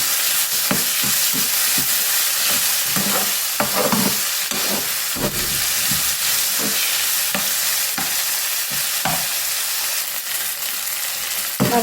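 Vegetables sauté in a pan for leftover idli upma, a strong continuous sizzle with irregular scraping stirs and clatter throughout, no talking.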